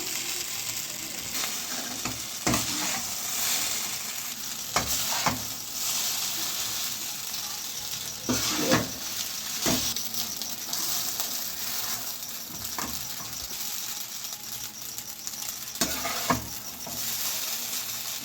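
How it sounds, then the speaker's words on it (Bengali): Chowmein stir-fried with vegetables over a high flame, giving a continuous sizzle with frequent clacking and scraping of a utensil against the pan at irregular intervals, close and moderately loud. "হাই ফ্লেমে চাউমিনটাকে রেডি করে নেব।"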